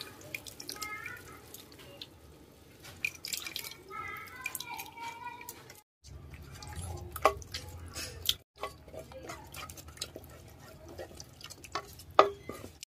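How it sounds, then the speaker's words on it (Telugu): Tamarind juice poured into a cooking pot for a ladies finger (okra) kootu: soft liquid trickles and scattered drips, close and fairly quiet, with a voice speaking faintly underneath. "ఇందులో చింతపండు పులుసు వేసుకోవాలి మనం."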